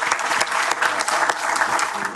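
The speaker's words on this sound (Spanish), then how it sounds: "Le damos un aplauso a Manuel Tironi, oficialmente." An audience at a science panel discussion on GMO controversies applauds a speaker, with a steady, fairly loud round of clapping through the whole stretch.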